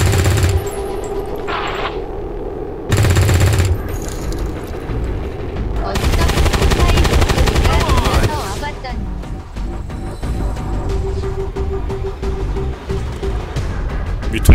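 Bursts of rapid gunfire and automatic weapon fire crackle in heavy volleys, loud and close, mixed with booms and game-like effects, from the video game XCOM 2 with the Long War 2 mod.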